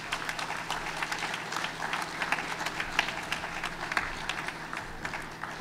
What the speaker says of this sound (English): Let's give them a round of applause as they make their way to the stage.